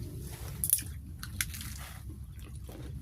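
A child eating meat with coffee chews with soft wet squishes and a few crisp bites, quiet and close over a low background hum.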